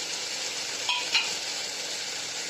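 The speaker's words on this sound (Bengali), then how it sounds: "এই যে মশলাটা ভাজা হয়ে গেল মাছের" Spice paste for a fish curry sizzles steadily in a hot pan, with two brief metallic clinks of a utensil against the pan partway through.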